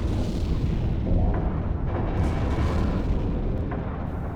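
In the Silent Hunter 3 submarine game, a depth charge pattern explodes behind and above the boat as a dense, heavy rumble of booms and deep bursts that fills the whole stretch without speech.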